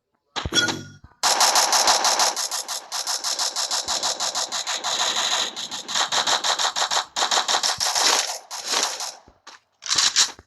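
Gunfire from the video game Free Fire rattles in long, dense automatic bursts, loud and near, running almost continuously with brief breaks between strings of shots.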